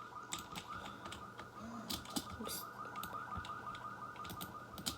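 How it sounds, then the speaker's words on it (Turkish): An alarm rings in the Roblox game Brookhaven, a rapid warbling electronic pulse repeating steadily at moderate loudness, with clicks and clatter from the game around it. "Bakın bakın bakın alarm çalıyor. Şurada bir alarmımız çalıyor."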